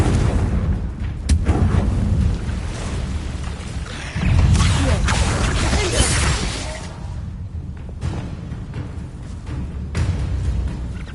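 Confringo blasting curse explosions in a wizarding video game, a loud sequence of booming blasts and whooshes that crowd together and rumble, with a few sharp bursts standing out.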